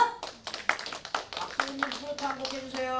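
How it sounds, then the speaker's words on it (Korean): Scattered hand clapping from a concert audience at Bupyeong Arts Center welcoming saxophone and accordion performers, fairly close and uneven, with a voice speaking over it. "여러분들의 큰 박수로 환영해 주시지요"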